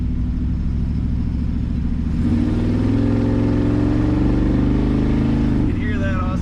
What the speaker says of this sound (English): You can hear that awesome muffler thumping.